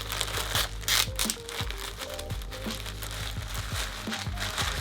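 Plastic packaging around a folded Shinesty Everyman T-shirt is peeled open, giving a continuous close-up crinkling and crackling with a few sharper tearing bursts, no talking.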